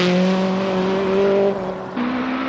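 A Nissan rally car on a 1985 Circuit of Ireland stage strains its engine close by, holding a loud, wavering tone before stumbling through an abrupt gear change and picking up again, with no voices.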